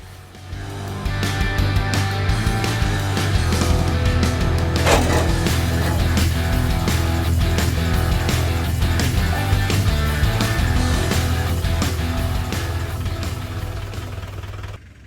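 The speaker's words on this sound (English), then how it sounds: "banging noise you can hear there, that's the springs dislocating and relocating inside the spring hangers." Land Rover Discovery crawling over an off-road track, its leaf springs banging in their spring hangers: a steady engine drone runs throughout, broken by repeated sharp metallic knocks.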